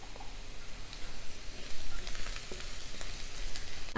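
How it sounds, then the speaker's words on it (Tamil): Onions fry in oil for a red chicken gravy, making a close, continuous sizzle that swells and ebbs. A few soft ticks and stirring clicks sit on top, and no one speaks. "இப்போ ஆனியன் நல்லா ஃப்ரை ஆயிடுச்சு. இந்த மாதிரி ஆனியனை நல்லா ஆயிலில் வதக்கிடணும்"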